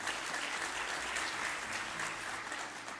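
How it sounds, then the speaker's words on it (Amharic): Church audience at a Sunday school recognition day clapping in sustained, even applause that fills the room, steady from start to finish with no talk over it. "ሰማያዊ የለበሳችሁት አጨብጭቡላቸው።"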